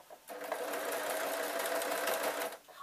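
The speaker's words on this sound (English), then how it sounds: "I can hear a change in tempo whilst I sew over that because of its 3 layers thick" A sewing machine stitches a layered fabric sleeping mask in one fast, steady run of close mechanical whirring that starts abruptly and stops just as suddenly.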